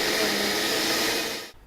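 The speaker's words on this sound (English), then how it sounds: "chuck it in the blender" A kitchen blender whirring through spices, shallots and roots, a loud steady motor roar that runs continuously and then cuts off abruptly near the end.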